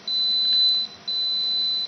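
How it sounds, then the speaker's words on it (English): Two long, steady electronic beeps, high-pitched and loud, separated by a short gap. "yes, my camera is beeping."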